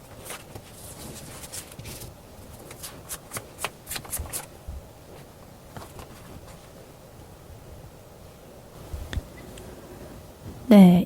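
Tarot cards shuffled by hand in a series of crisp, close riffling flicks and soft slides, irregular in rhythm, with a quiet pause midway and a louder rustle at the end.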